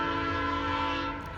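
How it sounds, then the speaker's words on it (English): A train passes at a distance, sounding a sustained, moderately faint horn that holds steady and then eases off slightly at the end. "There's a train."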